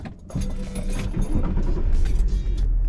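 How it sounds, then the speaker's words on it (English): A Range Rover L322 being started after a fault fix, with key jingle and the engine turning over into a steady, loud, close idle rumble, no talking. "I'm gonna start the car."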